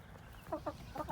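Backyard hens clucking in a spring garden, a few quick soft clucks in bursts over a low background hum, fairly close with no talk.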